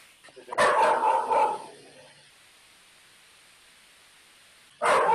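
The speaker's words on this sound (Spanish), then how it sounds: "no es que mi perrito está ladrando." A small dog barks indoors in a quick burst of yaps, then falls quiet for a few seconds before a fresh bark cuts in at the end. The barking is fairly close and there is no talk.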